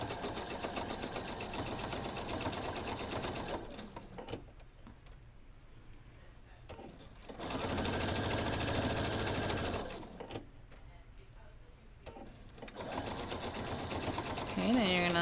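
Sewing machine stitching pants, running in several bursts of rapid mechanical whirring separated by short pauses, close and fairly clear.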